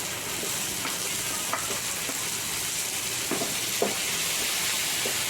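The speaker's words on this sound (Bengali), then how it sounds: "পেঁয়াজ দেখুন ভাজা ভাজা হয়ে যাচ্ছে, এর মধ্যে আমি দিয়ে দিচ্ছি কোচানো টমেটোটা।" Onions sizzle steadily in a hot pan as chopped tomato is added for a home-made sweet corn chilli, a continuous frying hiss with faint stirring clicks and no talking.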